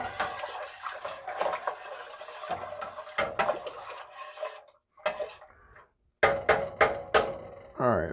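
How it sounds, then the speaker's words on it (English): Spoon clinking and scraping against a vessel while sugar is stirred into hibiscus tea for wine-making, in quick irregular bursts with a pause, nearby and fairly loud. "stir until dissolved"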